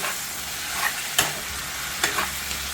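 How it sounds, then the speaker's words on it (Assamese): Cut potatoes frying in oil on low heat for an eel fish curry, a steady soft sizzle with a few sharp clicks of stirring scattered through. "এতিয়া দিছোঁ কাটি থোৱা আলুখিনি। এতিয়া কম জুইত ভাজি থাকিম"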